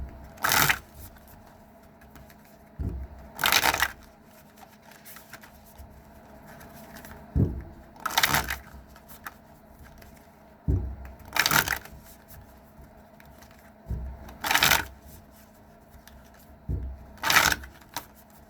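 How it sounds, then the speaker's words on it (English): Tarot cards shuffled by hand in bursts, with sharp riffling flurries recurring every few seconds over a quiet room and soft taps of the deck between them. "These are hard to shuffle, you guys."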